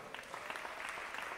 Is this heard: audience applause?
yes